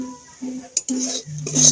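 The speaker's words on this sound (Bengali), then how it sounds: "সুজিটা এবার আমি ভেজে নেব।" Semolina fries in ghee in a pan while a spoon stirs and scrapes it, with short metallic clinks and scraping strokes in quick succession and close by.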